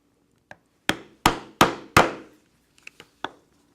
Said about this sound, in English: I will punch holes with my stitching chisel all the way through the 3 thicknesses